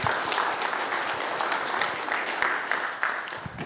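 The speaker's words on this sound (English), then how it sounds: "I think that deserves an applause as well" Steady applause from an audience at a book launch fills the whole stretch, a dense wash of many hands clapping at a fairly even level.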